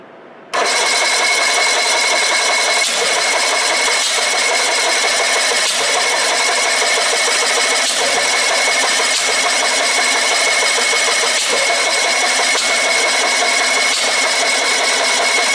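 A jet engine on a firetruck dragster roars up abruptly after a brief quiet moment, then holds a loud, harsh, steady whine with a sharp high tone, close by and uninterrupted.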